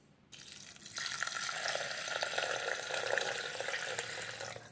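Milk pours onto washed rice for a kulfi pitha, a steady splashing and trickling stream that starts after a moment and continues evenly, soft and close with no talking.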